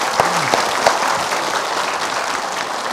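Studio audience applause at an Indonesian religious talk show, a dense burst of clapping across the clip with a few brief tonal whistles near the start.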